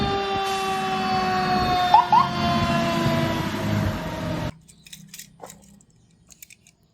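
A toy fire truck's electronic siren wails loudly with steady tones and a brief warble, cutting off abruptly, followed by faint clicks and handling noises.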